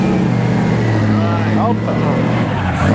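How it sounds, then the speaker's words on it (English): A vintage Bugatti engine runs with a steady low rumble at a car tour event, loud and close throughout, with people talking over it. "You got another Bugatti. Listen to the engine."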